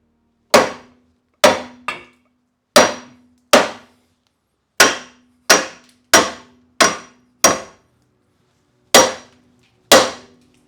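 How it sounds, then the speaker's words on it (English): A hammer strikes a metal part of a Datsun front suspension about eleven times at an irregular pace, each sharp ringing clang close and loud with a short metallic decay, alone with no talk. "Good use of a hammer. It's hammer time!"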